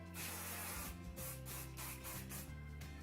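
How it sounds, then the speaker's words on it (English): Several short hissing bursts of hairspray sprayed onto bangs close by, with a steady mechanical hum running underneath. "I'm just going to spray my bangs"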